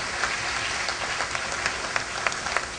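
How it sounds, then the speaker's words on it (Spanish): A hall audience at an academic gathering in Peru applauds a university delegation of professors and students: a sustained patter of many hands with a few sharper individual claps standing out. "Fuertes aplausos para ellos."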